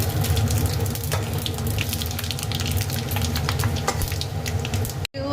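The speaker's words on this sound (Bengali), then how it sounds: "এখন আমি ফোড়ন দেবো তেজপাতা শুকনো লঙ্কা আর পাঁচ ফোড়ন" Bay leaf, dried chilli and panch phoron crackle in hot oil for a Bengali spinach ghonto with fried fish head, a steady close sizzle with scattered pops running throughout and no voices, cutting off abruptly near the end.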